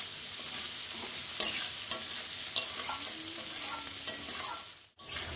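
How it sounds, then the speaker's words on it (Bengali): Onions and potatoes fry together in a pan, a low steady sizzle broken by sharp, close scrapes and clacks of a spatula roughly every half second, ending with a brief cutout near the end. "দেখো পেঁয়াজটাও অনেকটা ভাজা হয়ে গেছে, এই দেখো প্রায় ভাজাই হয়ে গেছে।"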